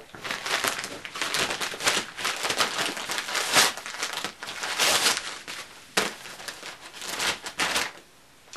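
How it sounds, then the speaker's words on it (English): Packaging for Fender locking guitar tuners being unboxed, close and busy crinkling and crumpling of paper and plastic in rapid bursts, stopping briefly near the end, with no talking. "I got locking tuners for this sucker, which we're going to unbox right now"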